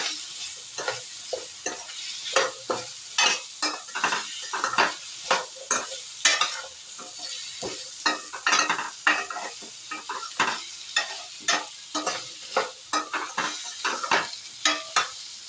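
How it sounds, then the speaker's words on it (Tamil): Drumstick (moringa) poriyal with turmeric powder being stirred in a frying pan: a close, steady sizzle broken by repeated scraping and clinking strokes of the spoon against the pan, with no talking. "இப்போது மஞ்சத்தூள் போட்டுக்கலாம் மிக்ஸ் பண்ணலாம்"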